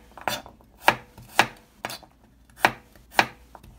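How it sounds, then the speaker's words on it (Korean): A knife slicing garlic on a cutting board: six crisp, evenly spaced chops, close and distinct, with quiet gaps between the strokes. "마늘은 찐마늘 말고 이걸 슬라이스로 잘라가지고 넣을게요"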